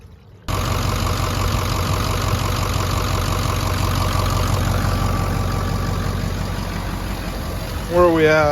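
A Ford 6.0 diesel engine fires up abruptly after a short quiet moment and settles into a loud, steady, clattering idle close by. A voice joins briefly near the end.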